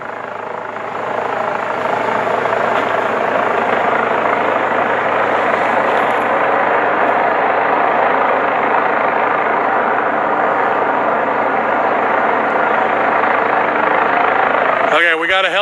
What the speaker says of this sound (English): Okay, we got a helicopter over here to help us now, guys, see?